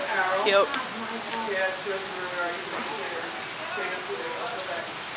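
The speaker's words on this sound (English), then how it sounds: "it started pouring down rain" Heavy rain pours down steadily at a zoo near the hippo enclosure, a constant hiss of falling water throughout, with people talking over it and a brief remark spoken.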